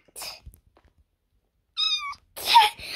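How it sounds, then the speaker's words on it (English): A cat meows in a Minecraft-style restaurant build battle, a short rising meow and a louder second call separated by silence, clear and close. "Let's get the cat. Let's get the cat."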